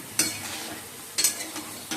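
Chicken frying in a pan with onion and tomato, a low sizzle under a few quick spatula strokes scraping and stirring through the mixture.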